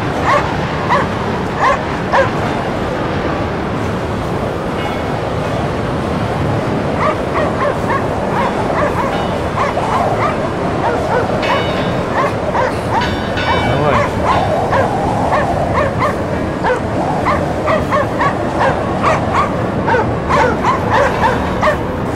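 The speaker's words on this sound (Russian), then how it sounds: "Сколько можно гавкать?" A dog in the video game Cryostasis: Sleep of Reason barks and yips over and over in quick, loud bursts, with whimpers mixed in, over an icy setting aboard the icebreaker North Wind while someone talks now and then.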